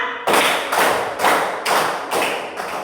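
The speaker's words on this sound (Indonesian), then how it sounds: "Tepuk 5" A classroom of students claps together in rhythm, five loud, evenly spaced group claps at close range, each ringing briefly before the next, with no talking over them.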